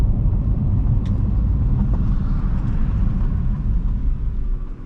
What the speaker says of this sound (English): the gravel with the GTR, no way